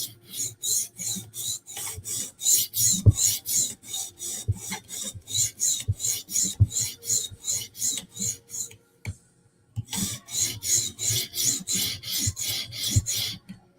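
A knife blade is sharpened on a Hapstone sharpener in rhythmic, close rasping strokes, each stroke a sharp scrape, with a brief pause partway through before the strokes resume.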